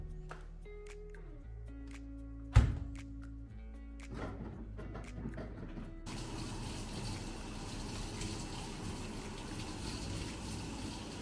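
Scattered clicks and mechanical tones give way to a steady rush of water filling a machine drum, a continuous gushing that lasts to the end.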